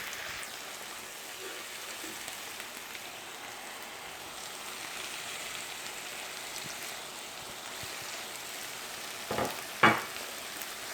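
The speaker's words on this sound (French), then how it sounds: "Et vous laissez cuire jusqu'à ce que la viande hachée et les légumes soient tous cuits." Spiced minced meat and vegetables fry in a pan with a soft, steady sizzle and faint crackle, then a couple of brief louder scrapes or clatters from stirring near the end.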